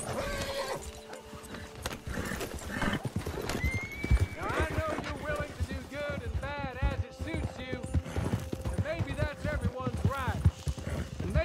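Horse hooves clip-clop steadily with repeated neighs and whinnies in Red Dead Redemption 2 Online, mixed under a dense in-game soundscape with background voices and occasional faint gunfire.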